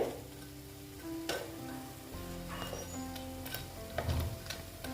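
Lentil fritters (bora) made from biuli dal batter sizzle steadily in hot oil, a continuous close crackle and bubbling with small pops throughout and no talking.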